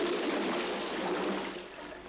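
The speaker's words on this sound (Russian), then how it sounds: "Да что этот идиот без конца воду спускает?" Water running from a flushed toilet, a steady broadband rush that eases slightly toward the end, close by with no voices.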